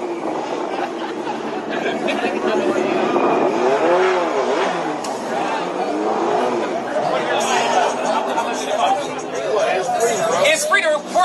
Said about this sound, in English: They're spinning cars.